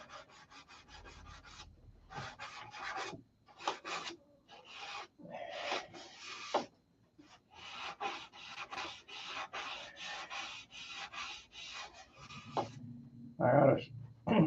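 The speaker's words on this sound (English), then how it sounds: "we'll go ahead and sand it and hit it too." Sandpaper rubbing over a painted surface during a touch-up, with close, raspy strokes in rhythmic bursts separated by brief pauses, ending in a few louder scuffs.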